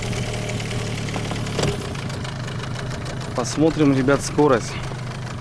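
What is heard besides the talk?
Gladiator 9.9 outboard boat motor running during break-in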